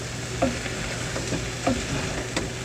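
Thai turkey stir-fry simmers in a pan, giving a steady soft sizzle and bubbling hiss with a few faint spoon taps, close and even throughout, no one talking.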